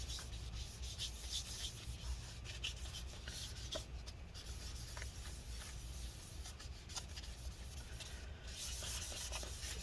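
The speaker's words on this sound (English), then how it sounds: "we'll use a little bit more rubbing alcohol. Right? And we'll clean this off again." A paper towel soaked in rubbing alcohol rubs adhesive residue off a 2015 13-inch Retina MacBook Pro A1502, making quiet, continuous scrubbing strokes close by.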